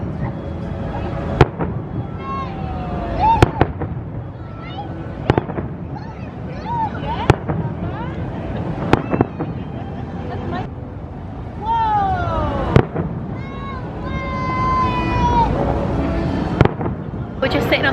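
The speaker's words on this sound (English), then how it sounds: "all of a sudden the fireworks started in the Disneyland park" Fireworks over Disneyland park heard from a nearby bench, a string of sharp pops and bangs spread through the clip, with whistling rising tones and crowd noise under steady outdoor ambience and people talking.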